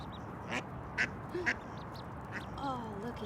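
Ducks quack outdoors, a mother duck with her ducklings, giving several short, fairly near quacks spaced irregularly over a soft background, while a person's voice murmurs softly near the end.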